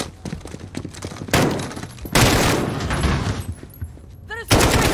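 Bursts of automatic gunfire in Call of Duty Modern Warfare during a prison break ambush, loud rapid volleys starting and stopping in clusters, with voices occasionally heard between shots.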